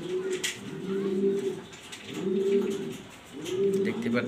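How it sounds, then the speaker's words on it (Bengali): Black Danish pigeons coo in three clear, rolling bursts separated by short pauses, close and steady against quiet loft background. "এখন দেখাবো ব্ল্যাক কালারের ড্যানিশ কবুতর"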